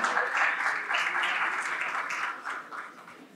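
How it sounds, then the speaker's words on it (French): An audience applauds a panel speaker at a sustainable finance conference, a fairly faint, steady patter of many hands that slowly fades toward the end. "On l'applaudit également."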